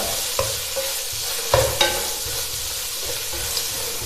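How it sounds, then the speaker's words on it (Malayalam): Chopped onions sauté in a pan for masala rice, with a soft frying sizzle under several sharp spatula scrapes and knocks against the pan, close and intermittent. "സവാള ചേർത്ത് നന്നായിട്ടൊന്ന് വഴട്ടിയെടുക്കാം."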